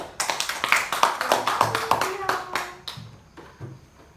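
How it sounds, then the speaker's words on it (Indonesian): A Grade 4 classroom breaks into a short burst of rhythmic hand clapping, close and lively, fading out near the end as a voice is briefly heard. "Tepuk tangan buat jawaban dari Muti."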